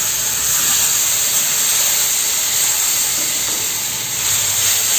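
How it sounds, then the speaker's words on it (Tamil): Boiling water is poured slowly onto roasted semolina for a temple-style jeera sweet, sending up a loud, steady steam hiss with a faint sizzle that continues without pause. "கொதிக்கிற தண்ணி தான் ஊற்றணும். அதுவும் பார்த்திங்கன்னா நீங்கள் மெதுவாக ஊற்றணும், வேகமாக கொட்டிடக்கூடாது, மேலே தெரிச்சிடும்."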